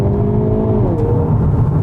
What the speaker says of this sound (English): This vehicle, you put your foot down and it really just wants to go.